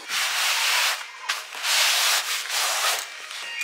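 Plastic bag packaging around a Vistaprint banner being opened, a close, steady crinkling and rubbing of plastic in several bursts with short pauses, no voices.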